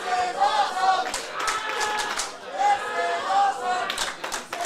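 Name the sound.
wrestling crowd cheering and clapping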